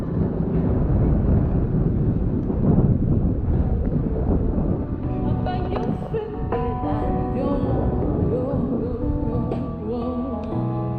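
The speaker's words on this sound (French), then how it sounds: "je sais qu'il y a du vent" Wind buffets the microphone in a continuous rumbling roar at the Roman amphitheatre in Tarragona, Spain, with some faint tonal sounds emerging later.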